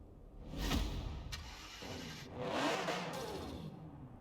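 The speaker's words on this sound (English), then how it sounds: "let's start the engine. Let's hear that V12." A video game Aston Martin DBS Superleggera V12 engine cranks and fires, revving up sharply with a whirring rise, then settles before revving again.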